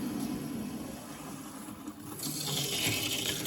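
Domestic cold water valve opened on a boiler line during an oil-to-gas tankless combi install, water rushing through piping with a steady hiss that swells louder toward the end, no voices.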